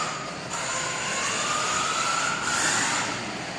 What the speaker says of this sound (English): The mesh sounds horrible, doesn't it?